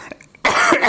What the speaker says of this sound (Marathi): जरा मध्येच खोकला आला.